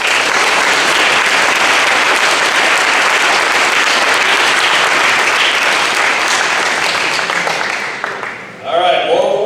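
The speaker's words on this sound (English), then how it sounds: "Let's give them a big round of applause." A large banquet audience applauds football players in a loud, steady roar of clapping that fades near the end as a voice begins to speak.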